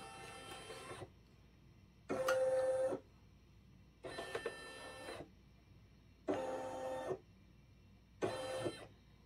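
A Brother embroidery machine traces an applique design on a bodysuit, moving its hoop in five separate bursts of mechanical whirring with quiet pauses between them, heard fairly close.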